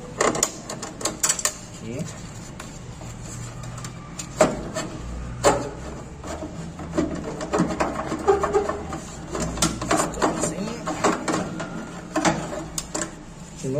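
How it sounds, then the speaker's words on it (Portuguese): Phillips screwdriver backing screws out of a Philco split air conditioner's 24,000 BTU condenser unit, a series of close metallic clicks, scrapes and rattles in irregular bursts, with someone briefly speaking. "Com a chave Phillips eu vou retirar os parafusos."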